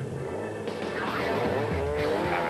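Rally car racing through dusty bush country in the Limpopo 400 rally, 2007, engine droning steadily with shifting pitch and some tyre scrabble, close and continuous with a voice faintly underneath.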